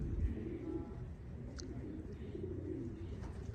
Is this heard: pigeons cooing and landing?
yes